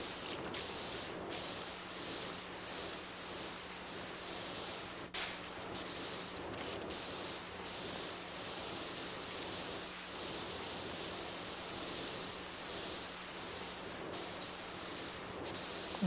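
Pressure washer jet spraying building walls in the video game PowerWash Simulator 2, a continuous loud hissing spray with brief interruptions and slight shifts in tone as the stream moves across surfaces.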